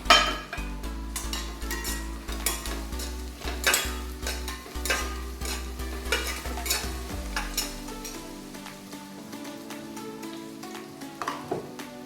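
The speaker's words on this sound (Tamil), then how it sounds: "ஆனியன் நல்லா வதங்கட்டும். இதே ஒரு 6-7 முந்திரி பருப்பு போட்டுக்கலாம்." Onions and cashews frying in a pot for a one-pot chicken biryani, a spoon scraping and clinking against the pot in uneven strokes over a soft sizzle that fades toward the end.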